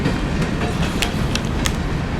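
A train at the Union Station platform in downtown Little Rock gives off a loud, continuous rumble, with faint rhythmic clacks and hisses rising over the steady rolling noise.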